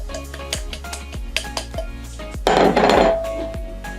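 Flour and sugar tipped into butter in a bowl for melon bread dough and mixed by hand or spatula, giving repeated close scraping knocks against the bowl, then a brief louder rustling pour of powder.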